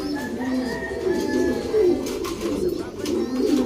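Pigeons, a brown cock and a dark check hen, cooing in soft repeated throaty calls, close and fairly quiet against a faint background.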